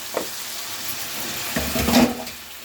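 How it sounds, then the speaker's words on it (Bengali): Cabbage curry with turmeric and spices sizzles in a pan while being stirred and fried, with scraping and a brief surge of hissing near the end, loud and close, no talking. "হালকা করে হলুদ দিলাম দেওয়ার পরে এটা আমি আবার কষে নিচ্ছি ভালো করে"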